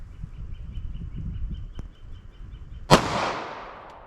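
A single sharp 9mm pistol gunshot, 124 grain round from a 4-inch barrel, loud and close, with a ringing decay after quiet outdoor background.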